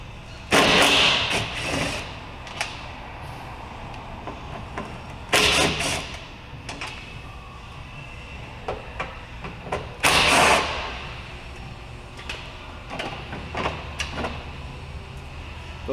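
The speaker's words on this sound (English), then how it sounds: "We're going to see if I can get this off with the impact gun without rounding off the screws." An impact gun rattles out door lock actuator screws on a Honda CR-V, with three sharp bursts of close hammering roughly five seconds apart. Quieter clicks and handling noises fill the gaps between them, and no one speaks.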